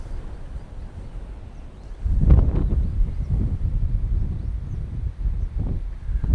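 Wind buffets a microphone on the sunny, rocky coral coast of Orchid Island (Lanyu), Taitung County, Taiwan, a steady low rumble with stronger gusts swelling from about two seconds on.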